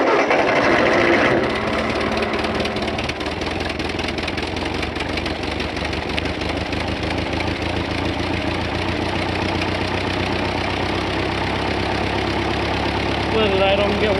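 A Ford 9N tractor engine idles cold, a steady close rumble with a rapid pulsing beat running the whole time and no pauses.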